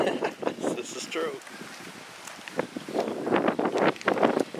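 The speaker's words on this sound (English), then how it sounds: "Windy here today." Wind blowing on the shore of Lake Whippoorwill in Florida, a steady rushing buffeting the microphone, with people talking over it.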